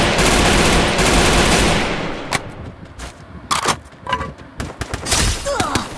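Rapid gunfire from Free Fire opens with a loud, dense two-second volley, then drops to scattered sharper shots and thuds.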